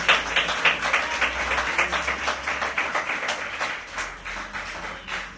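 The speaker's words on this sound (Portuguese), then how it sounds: "E se você tem gratidão no coração, aplauda o Senhor com o seu melhor." A church congregation applauding in praise during a service at Nova Vida do Catete, a sustained, lively crowd clapping with a rhythmic pulse, fairly close and filling the room, no voices on top.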